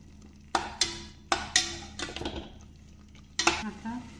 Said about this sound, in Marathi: आता हे छान मिक्स करून घेऊया।